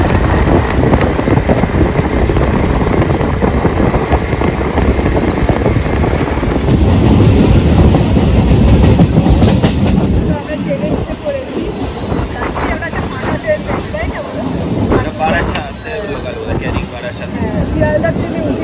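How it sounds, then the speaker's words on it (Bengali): Rumbling clatter of a local train bound for Dhakuria in West Bengal, a steady loud roar of wheels and carriage that eases partway through, with people talking over it throughout. "ঢাকুরিয়া ট্রেনে উঠেছি"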